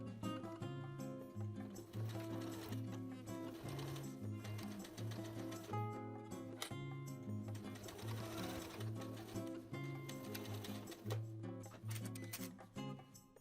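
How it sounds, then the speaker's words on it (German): A sewing machine topstitches the edge of a jeans side pocket with contrast-colored thread, its needle clattering rapidly in bursts with brief pauses between runs, close and clear. "Die Kante wird nun mit 9 mm Abstand in kontrastfarbigem Garn durchgesteppt."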